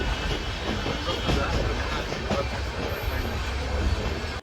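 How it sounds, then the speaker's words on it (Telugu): Vikramasimhapuri Amaravati Intercity Express pulling into Bapatla railway station, a steady loud rumble of carriages and rolling wheels with a brief high squeal near the end. "ఇప్పుడే మన ట్రైన్ వచ్చేసి బాపట్ల రైల్వే స్టేషన్కి అయితే రీచ్ అయిపోయింది"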